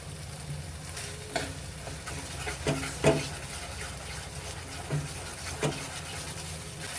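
Ginger-garlic paste frying in a pan for prawn masala gives a continuous close sizzle. A few soft spoon clinks and scrapes land at irregular moments over the hiss.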